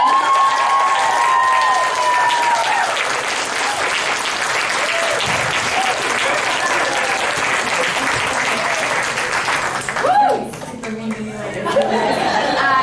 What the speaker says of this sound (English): y'all are gonna give me a huge round of applause